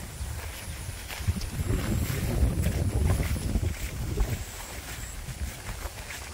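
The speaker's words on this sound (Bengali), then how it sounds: "এরকম বাতাস থাকলে তাও মনে একটু শান্তি লাগে" Wind blowing across open village ground, a continuous low buffeting rush that swells in the middle and eases off, close to the microphone, with a few faint higher rustles and no talk.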